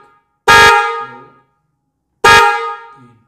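Newly fitted motorcycle horn, pressed by button at night, blares twice close up: two loud, brassy honks each lasting about half a second with a short fading tail, separated by silence.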